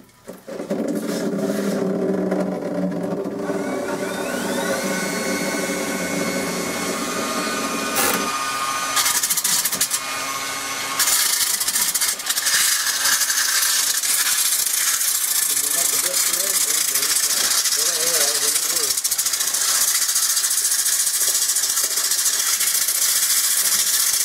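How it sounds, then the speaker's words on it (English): Power grinder working steadily on a metal workpiece, smoothing it down, a loud continuous hissing whine that shifts tone midway and runs almost without pause throughout. "I need to polish this whole piece all down smooth"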